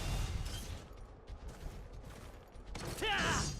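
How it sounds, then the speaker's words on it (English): Gunlance mini charge shots from Monster Hunter 3 Ultimate, a few muffled blasts and mechanical clanks spaced apart, ending in a louder burst with a rising metallic whine. "do these mini charge shots"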